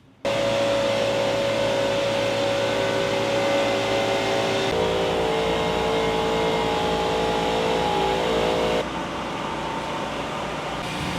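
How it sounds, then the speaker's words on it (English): Air ride suspension bag on a custom vehicle inflating, a steady loud rushing hiss of compressed air with a compressor-like hum and a faint whine, continuous for about ten seconds before easing slightly near the end. "Now this is the air ride getting filled up with air going up."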